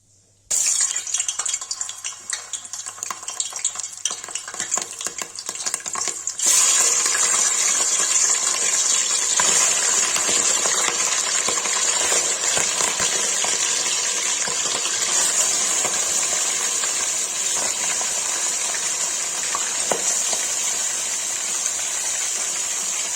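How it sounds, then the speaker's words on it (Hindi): Mutton frying in hot oil in a kadai: a loud, steady hiss and crackle that jumps up sharply a few seconds in and then holds, close and continuous. "भाई देखिए तेल हो गया, वैसे मटन डाल देंगे।"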